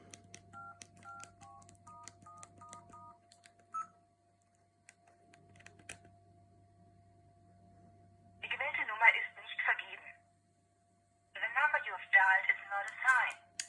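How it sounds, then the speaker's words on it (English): A Pantech Duo phone plays a run of short, evenly spaced dialing tones with a faint steady hum beneath, then falls quiet before two bursts of brief electronic phone sounds. "I have to dial the plus before the 1."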